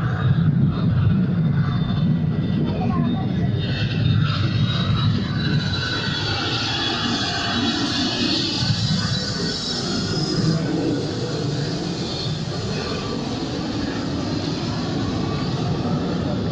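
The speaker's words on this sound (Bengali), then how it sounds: "এটি হচ্ছে সুপার জেট রাইড।" Super Jet amusement park ride running at a park in Keraniganj, a steady loud mechanical roar and whoosh with rumbling low end that holds for the whole stretch, no talk.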